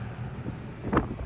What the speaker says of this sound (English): It's really windy today, so I'm gonna try to stay out of the wind.